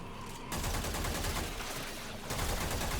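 Rapid gunfire from a weapon in Warframe, fired at armored Grineer enemies, forms a loud, dense stream of shots with a brief pause near the end before firing resumes.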